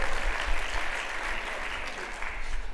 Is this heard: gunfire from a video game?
no